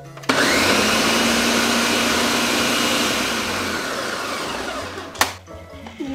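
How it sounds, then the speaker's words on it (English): A blender blending boiling liquid roars loudly and steadily for several seconds, then its pitch sags slightly before a sharp clunk and the motor winding down. "Sometimes it's a little concerning when you blend things that are boiling"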